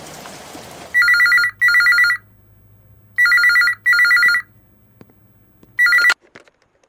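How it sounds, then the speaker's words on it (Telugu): A telephone rings with an incoming call: five bright electronic double-trill rings in a regular pattern over a low hum, the last ring cut short, with no speech. "ఆ తర్వాత కొద్ది రోజులకు ఒక కాల్ వచ్చింది"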